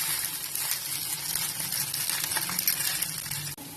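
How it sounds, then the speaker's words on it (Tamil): Strained veg noodles made with Yippee instant noodles are tossed with masala in a pan, producing a steady close sizzle with continuous stirring and scraping that runs throughout without pause, no voices present. "ஸ்ட்ரெயின் பண்ணி வச்ச நூடுல்ஸ் நம்ம இது மசாலாவோட போட்டு மிக்ஸ் பண்ணலாம்"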